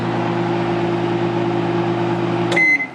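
An RCA RMW800 microwave oven runs with a steady low hum and whir, ending in a sharp electronic beep near the end as the hum cuts off.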